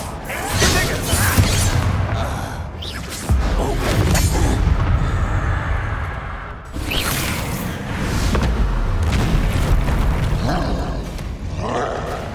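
Confringo spell explosions in the Hogwarts Legacy video game, loud booming blasts with rumbling roars and whooshes that keep going through most of the stretch, with no speech over them.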